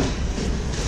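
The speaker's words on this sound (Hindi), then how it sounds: "चलाते हैं फटाफट से गुड्स ट्रेन को" WAG-9 electric locomotive hauling goods wagons in a train simulator, a dense, steady rumble of rolling stock with low clatter, loud and continuous for under a second.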